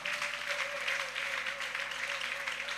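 Church congregation clapping together at a Sunday service, a sustained wash of many hands at a soft, steady level, somewhat distant, with a faint hum underneath.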